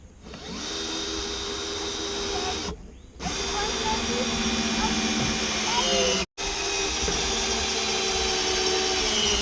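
A power drill drives screws into wood while building a homemade pontoon boat, a steady motorized whir running nearly continuously with two brief stops, loud and close.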